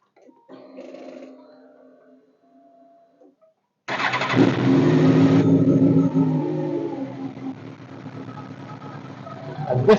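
A motorcycle engine during a coolant drain-and-bleed job: a short cranking attempt, a pause, then the engine catches and settles into a steady close idle that runs to the end.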